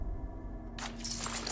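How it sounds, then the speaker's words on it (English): A bunch of keys jangles inside the Resident Evil 4 VR video game, a brief metallic rattle that starts partway through and sits over a low, steady game background hum. "Keys, a bunch of keys"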